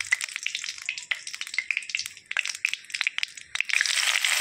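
Bay leaves dropped into hot mustard oil in a wok crackle and sizzle steadily up close, bursts of spitting building to a denser fry near the end, with no talking.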